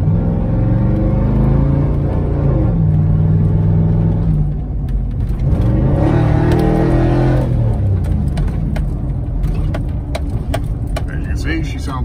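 A car engine and exhaust rev from inside the car with the windows closed, a steady loud rumble rising and falling in pitch as the throttle swells and eases.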